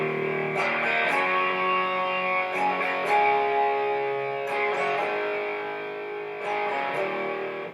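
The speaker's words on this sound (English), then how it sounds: "or you can play there's another part where the chords are ringing out" Distorted electric guitar rings out chords from a riff, with loud, sustained strums that swell and fade in several repeated phrases, with no talk.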